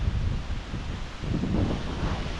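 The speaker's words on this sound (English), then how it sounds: "This wind came out of nowhere." Strong gusty wind near a lake in the Kootenays buffets the microphone, a loud continuous roar with a brief lull before surging again, no voices.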